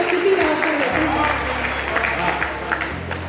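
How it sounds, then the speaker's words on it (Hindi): An audience claps to welcome women arriving at a Hindi poetry recital, a steady crowd patter of hands with a low hum underneath and faint voices mixed in. "इनके लिए एक बार तालियां बजाइए"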